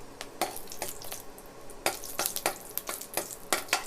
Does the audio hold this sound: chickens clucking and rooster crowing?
no